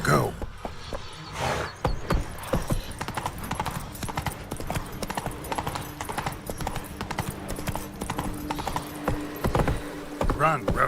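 Roach the horse gallops in The Witcher 3: Wild Hunt with a fast, steady clip-clop of hooves that stays loud and close throughout, with a brief whinny-like touch near the start.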